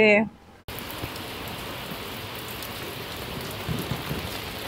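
Heavy rain pouring steadily outside cottages near Susunia hill, a dense continuous hiss of drops on surfaces that begins abruptly after a short quiet moment and holds even throughout.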